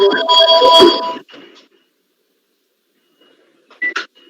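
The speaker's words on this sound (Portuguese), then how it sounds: "é o telefone" Home telephone ringing indoors: a loud, bright ring burst opens, fades into near silence, then a short second ring returns just before the end.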